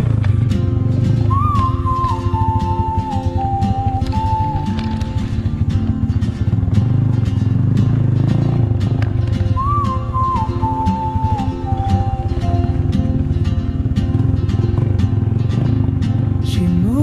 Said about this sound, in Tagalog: kaya ako'y nakiangkas na lang muna dito sa motor na may karga ng gamit ng PB Team